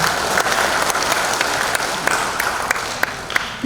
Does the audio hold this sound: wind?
no